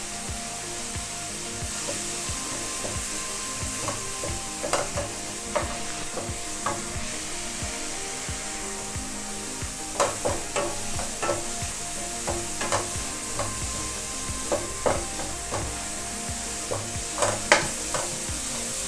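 Chopped ingredients for ABC rice sauté on high heat, cooking off their moisture: a continuous close sizzle with repeated scraping spatula strokes throughout.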